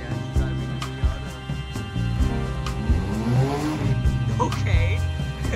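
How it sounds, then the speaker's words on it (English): A 1994 Mazda Miata on a test drive, its engine droning and revving up and down under a steady road rumble, heard from inside the car while people talk. "My dad's driving a Miata."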